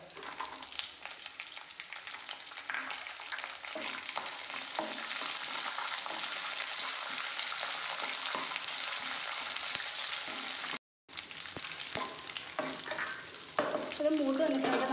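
Raisins frying in a pan for a Navaratri sweet, a soft continuous sizzle with frequent spoon scrapes and a brief dropout near the end, no voices.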